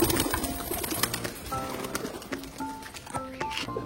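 Young pigeons in a cage coo softly and steadily, with some nearby thumps and rustling from the loft.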